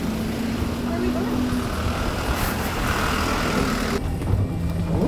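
Resort buggy ride at Natra Bintan glamping site, with a steady motor drone and wind and road rumble close up, a constant loud hum that shifts slightly near the end.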